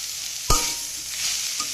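Kalai greens and beans are stirred in a frying pan with one sharp scrape of the spatula, a softer stroke later, and a steady light sizzle underneath.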